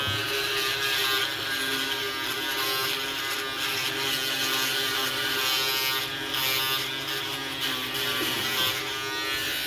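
An electric shaver runs continuously close up, a steady buzzing hum with slight shifts in pitch as it moves over the face, no talking.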